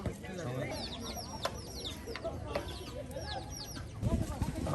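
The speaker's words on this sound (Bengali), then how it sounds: "মুরগি বাজার থেকে মুরগি নিয়ে আসলো।" Chickens clucking close by at a village home, soft repeated calls over a steady rustling background, with louder, busier movement and noise toward the end.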